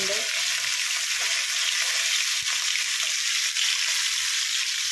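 Sardines fry loudly in a pan, a dense, bright, continuous sizzle close to the microphone with no break and no talk.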